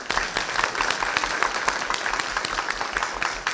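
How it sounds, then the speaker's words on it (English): Audience at a university alumni panel on Black student history claps warmly for a retired lawyer, a steady, close round of applause lasting a few seconds without speech. "A round of applause."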